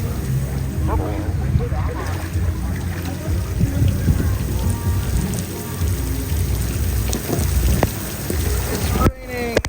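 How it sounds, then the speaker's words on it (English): Steady rain patters on a surface at a lazy river in Puerto Plata, Dominican Republic, a dense wash of drops with voices speaking faintly underneath. "It's raining. Cats and dogs."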